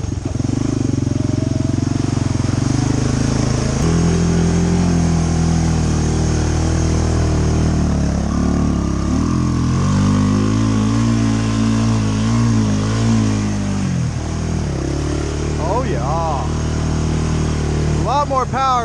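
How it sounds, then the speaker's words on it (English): A Honda TRX250 Fourtrax ATV engine with a slight exhaust leak runs steadily and loudly close by, its pitch shifting as it revs, with a person talking over it. "You can hear it's got a slight exhaust leak, but running pretty good."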